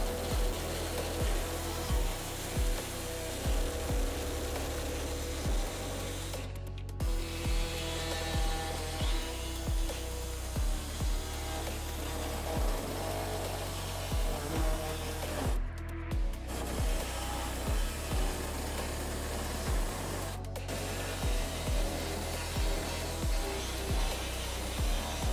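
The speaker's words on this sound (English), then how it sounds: "And today we're gonna be cutting ours with an air saw." An air saw trims the metal heat shield on a 2017 Mercedes GLC 300 during a trailer hitch installation. A steady, close buzzing grind carries a rhythmic pulsing and pauses briefly a few times.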